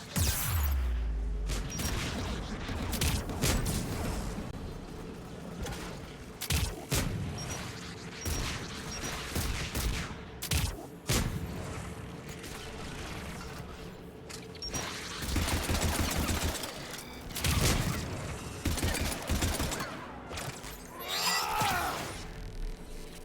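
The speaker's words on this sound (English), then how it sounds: "aircraft guns" Anti-aircraft guns fire in Mass Effect 3, a dense barrage of booming blasts and rattling bursts that rolls on throughout, loud and layered with distant explosions and mechanical clatter.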